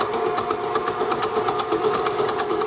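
A newer KitchenAid stand mixer runs steadily with a whisk attachment, a continuous motor whine with a rhythmic beating pattern, loud and close, with no talking.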